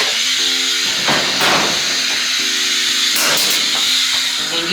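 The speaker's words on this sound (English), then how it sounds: "you hit the steam button and you get steamed, just like that" A handheld steam iron blasts loud, continuous hissing steam up close, with a few stronger surges and a low mechanical hum underneath.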